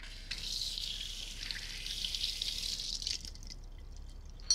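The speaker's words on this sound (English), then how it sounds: "I'm gonna rinse my hands." Tap water runs steadily as hands are rinsed at a kitchen sink during tamale making, a soft, close hiss that cuts off near the end.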